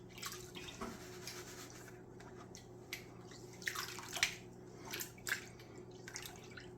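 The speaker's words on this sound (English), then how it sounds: "You want the water to reach the back of the pan and wash out." Water sloshing and washing through a gold pan during panning outdoors, a soft continuous trickle with small splashes and drips, faint and close.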